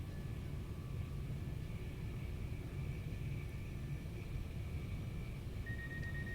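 A Class 387 Gatwick Express electric train on the Brighton Main Line in Train Sim World 3 entering Quarry Tunnel uphill, a steady low rumble with a faint high tone, fairly quiet and without speech.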